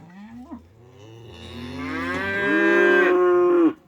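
An Avileña cow lets out one long, loud moo that rises and holds before cutting off, close by with no other sounds.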